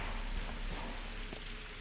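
Rain from the video game Pathologic 2: an even, broadband hiss of falling rain with a couple of faint taps and drips, steady throughout with no voices.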